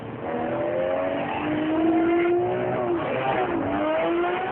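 A 2010 Lamborghini Murcielago LP 670-4 SuperVeloce accelerating hard, its engine note climbing steadily through the gears with brief dips at each shift, loud and continuous with no talking.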